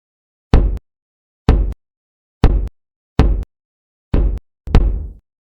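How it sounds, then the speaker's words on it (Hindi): Fingers knock on a door in a spaced sequence of single and paired raps, each sharp and close, with silence between them. "धीरे धीरे अपनी उंगलियों से दरवाजे पर दस्तक दी।"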